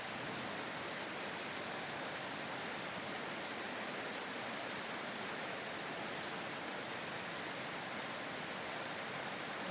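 Waterfall at Idaho Falls, a steady broadband rush of flowing water, even and unbroken throughout, heard alone without voices.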